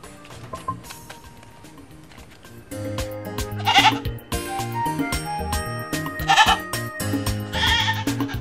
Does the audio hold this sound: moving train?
no